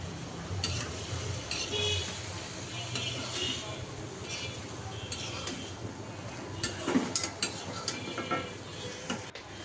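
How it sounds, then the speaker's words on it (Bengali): Potatoes and boiled chickpeas fry and get stirred together in a pan, a soft continuous sizzle broken by scraping and clinking spoon strokes, fairly quiet, with faint background voices. "আলুটা সিদ্ধ হয়ে যাবার পর বুটটা দিয়ে মিশিয়ে নিচ্ছে"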